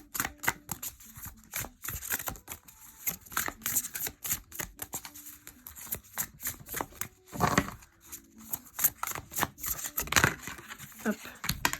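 A deck of oracle cards is shuffled and drawn, giving a close, dense run of quick papery flicks and snaps with brief pauses between bursts.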